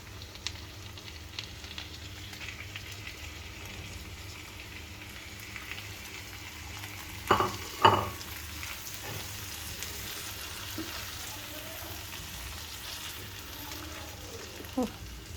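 Marinated chicken with spices and bay leaves frying in a pan for achari chicken, a steady close sizzle under soft stirring, with a few louder scraping bursts partway through and near the end.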